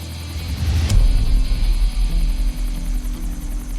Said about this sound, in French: filmée par un hélicoptère de la police